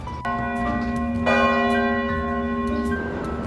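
Bells of the statue clock at Herald Square in New York strike the hour, several sustained, ringing tones with long overlapping decay, sounding clear and fairly close over soft city background noise.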